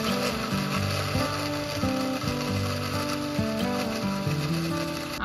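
A blender whirs as it mixes carrot cake batter with oil, a close, continuous motor drone with shifting, strained pitch as the thick mixture churns, no talk over it.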